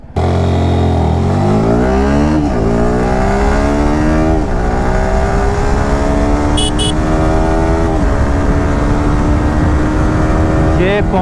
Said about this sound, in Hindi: अब यहाँ से हम 100 की स्पीड पे रहेंगे और दोनों ब्रेक पूरे पूरे अप्लाई करेंगे।